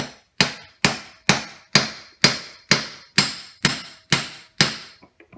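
Ten sharp, evenly spaced hammer taps seating a part onto a bearing in a Tsurumi pump ring out one after another, each with a short metallic decay, then a couple of faint lighter knocks at the end.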